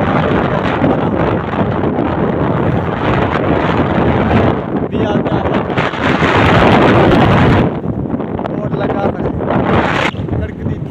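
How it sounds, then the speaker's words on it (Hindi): Strong wind buffets the microphone in loud, roaring gusts, with brief lulls between blasts and a muffled voice partly buried underneath. "हवा तेज है बहुत तेज हवा"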